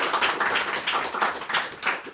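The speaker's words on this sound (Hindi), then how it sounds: "एक बार उनके लिए ज़ोरदार तालियां" An audience at a live poetry event gives loud, close applause, with rhythmic bursts of many hands clapping continuously for about two seconds.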